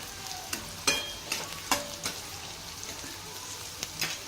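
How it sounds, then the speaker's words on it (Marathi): Chillies frying in a pan with salt, turmeric and cumin, giving soft sizzling with a few sharper stirring clicks and scrapes, fairly quiet throughout. "हे मीठ, हळद, जिरे आहेत ना, हे आपल्याला टाकून घ्यायचं आहे।"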